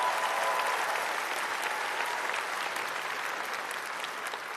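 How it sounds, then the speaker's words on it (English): Steady, sustained audience applause fills an opening ceremony for the Transplant Games, a dense, even wash of many hands clapping at constant loudness with no pauses or voices standing out. "So let's give him a big round of applause."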